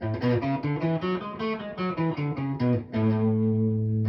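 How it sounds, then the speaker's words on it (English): Heavily distorted electric guitar plays a run of single notes rising step by step, ending on a long sustained, buzzing tone. "That's the amount of distortion I wanted to get."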